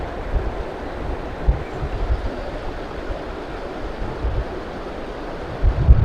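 The Jaldhaka River in North Bengal rushes over large stones, a steady broad wash of flowing water with gusts of wind buffeting the microphone.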